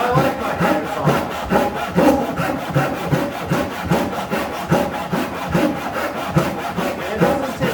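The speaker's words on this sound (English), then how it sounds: "But I like my miter saw." Steady back-and-forth wood sawing from a hand-operated miter saw cutting lumber for a potting bench, a close, even rhythm of strokes running throughout with no talk.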